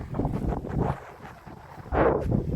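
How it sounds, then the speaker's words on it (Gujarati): Gusty wind buffets the microphone in a farm field in low rumbling bursts, easing briefly in the middle and then rising strongly again near the end. "પવન તો બહુ ઉડે છે"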